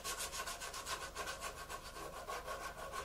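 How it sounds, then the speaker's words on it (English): A sanding sponge lightly rubbed back and forth over the top of a model surface, giving a steady, quick rhythmic scratchy rasp, close and alone. "Come along with your sanding sponge and very lightly just run it over the top."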